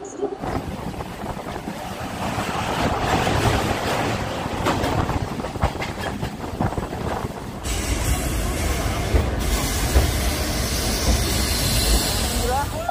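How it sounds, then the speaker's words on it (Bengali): A local train near Kharagpur station in India, running continuously with a rumbling low roar and clattering that grows louder after about seven and a half seconds, with some speech in the background. "আর 1 মিনিটের মধ্যে কিন্তু ট্রেন ছাড়বে"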